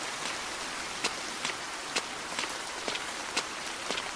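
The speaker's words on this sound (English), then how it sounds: "It's raining heavily." Heavy rain falls steadily in a video game, a constant hiss carrying a regular series of soft footsteps hurrying through it, with no voices.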